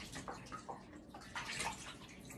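Water runs and splashes steadily from a tap while a Shih-Tzu dog is bathed at home without a shower head, a soft continuous wash of sound close by.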